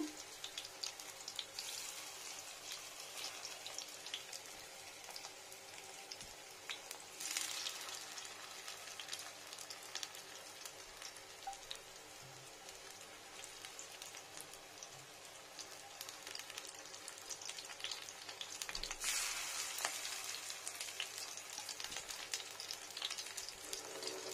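Pumpkin flowers cut in three pieces, coated in gram flour batter with green chilli, deep fry in hot oil, giving a constant dense sizzle and crackle at close range.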